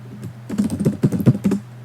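Rapid, uneven keystrokes on a computer keyboard as code is typed, close and fairly loud over a low steady hum, with a short pause before the clatter picks up.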